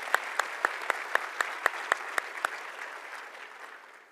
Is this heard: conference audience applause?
yes